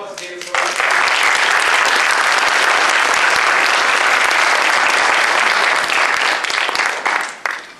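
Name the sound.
audience applause after presentation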